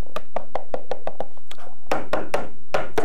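A container of layered rainbow marshmallow pudding is knocked against a surface to level it, giving a run of about a dozen sharp, close taps in a steady rhythm, the later ones heavier and duller.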